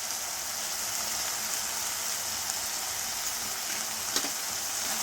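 Spices, ginger-garlic paste and salt fry in a pan with a steady, dense sizzle, even and continuous throughout, with one faint clink near the end and no voices.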